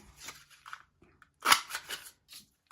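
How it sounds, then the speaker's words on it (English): Scissors cut out a paper circle in several short, crisp snips, close and clear against quiet, with one louder cut partway through. "So first of all, we want to just cut out a circle,"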